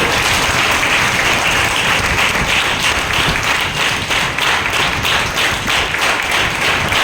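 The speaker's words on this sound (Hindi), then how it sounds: "एक बार जोर से पवित्र आत्मा प्रभु के लिए ताली बजाएंगे जोर से।" A church congregation claps loudly for the Holy Spirit, a thick continuous burst of many hands clapping close and strong for several seconds, with a faint rhythmic pulse running through it.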